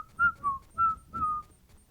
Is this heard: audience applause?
no